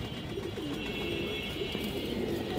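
A pair of Beji pigeons coos softly in low, wavering phrases that rise and fall a few times against faint background noise, with no one talking.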